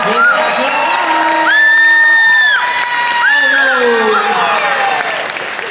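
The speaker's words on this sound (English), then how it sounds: "Let's give it a round of applause." A convention crowd at a fursuit dance competition claps and cheers loudly, with long sustained whoops and shouts rising over continuous applause throughout.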